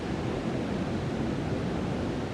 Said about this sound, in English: this is Waterfalls up in the Yorkshire Dales